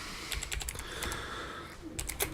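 Rapid, uneven keystrokes on a computer keyboard during a live stream, a cluster of clicks early and another burst near the end, close and moderately loud with no talking.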